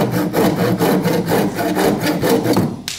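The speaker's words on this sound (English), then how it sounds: "we just need to cut to the line" A hand saw cuts through wood along scribed lines, loud and close, with quick regular back-and-forth strokes rasping for about three seconds.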